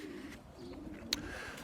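Racing pigeons coo softly inside a loft, low murmuring calls at moderate distance with a brief sharp click partway through.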